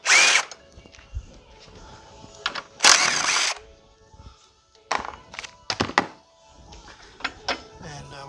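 Someone removes the 10 mm upper radiator mount bolts on a 2008 GMC Acadia with a tool. Short, close bursts of whirring and sharp clunks come in irregular spurts with quiet gaps between.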